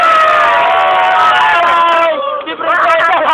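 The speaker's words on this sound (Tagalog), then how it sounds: "Dito biglang umalingaw ang malakas na sigawan." Loud crowd shouting and cheering for Princess Laura, a dense wall of many voices that stays full and sustained throughout, with a brief dip near the end before the roar swells again.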